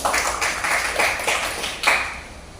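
Children applaud a classmate in a classroom with a few bursts of clapping in loose rhythm, fairly close and clear, with no talking over them.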